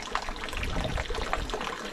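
Water runs as a weak, steady trickle from a small waterfall that has dried to a thin flow, a soft continuous splashing and burbling with no voices.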